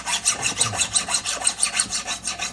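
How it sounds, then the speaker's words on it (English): A metal file rasps rhythmically across a homemade boxcar jaw harp held in a vise, about a dozen even back-and-forth strokes, close and fairly loud, with no talking. "I'm gonna give her a bit of a file."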